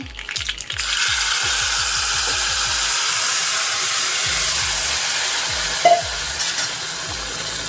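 Boiled banana stem is stirred into a frying pan for a South Indian kootu. Rhythmic, low scraping strokes repeat over a loud, constant sizzling hiss close by, with a brief pause midway.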